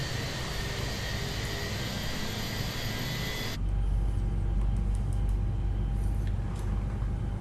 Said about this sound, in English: We've got number two spooling up.